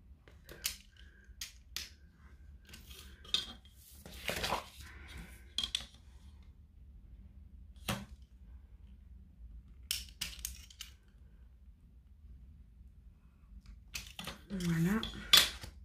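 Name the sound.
cutting paper photo template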